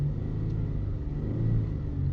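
A Kia Stinger engine with a low fuel pressure fault is revved up from idle, giving a steady, loud, close-up rumble that holds throughout without a clear rise or drop.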